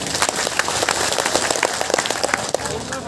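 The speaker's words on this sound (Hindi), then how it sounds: "आप ताली बजा सकते हैं।" A crowd at a poetry program in Hailakandi, Assam claps after a ghazal recital, loud and dense applause sustained throughout with voices mixed in among the clapping.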